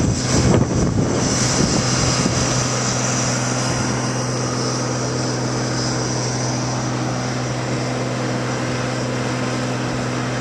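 Road rollers work in tandem on a cold mix paving job, their engines holding a loud, steady drone with a constant hum throughout and no voices.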